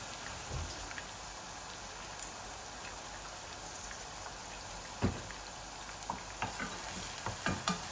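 Onion and garlic fry in a pan with a steady, even sizzle, broken by a few light stirring clinks and scrapes toward the end, with no talking.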